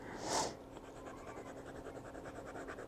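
A TWSBI Diamond 580 fountain pen with a 1.1 stub nib writes on paper with a steady, soft nib scratch that runs through the whole stretch after a brief louder burst near the start.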